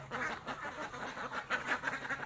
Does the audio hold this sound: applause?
no